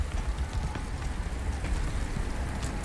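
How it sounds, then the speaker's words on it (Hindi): Rain, snow and hail falling in the video game Subnautica Below Zero, a steady dense patter and hiss with low rumble, continuous and close, with no talk. "बारिश बर्फ ओले सब गिर रहे हैं।"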